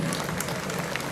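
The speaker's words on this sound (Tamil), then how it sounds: "நீங்கள் கொஞ்சம் நல்ல கைதட்டலை கொடுக்கலாம்" An audience at an anti-drug awareness cricket event applauds, a short burst of dense, even clapping from many hands.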